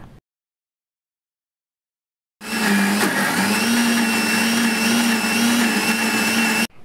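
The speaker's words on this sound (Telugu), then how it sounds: "గ్రైండ్ చేసిన తర్వాత స్మూత్ పేస్ట్ లాగా గ్రైండ్ చేసుకోవాలి" After a brief silence, a mixer grinder starts up grinding ivy gourd pickle into a smooth paste, with a loud, steady whirring drone that runs continuously until it cuts off.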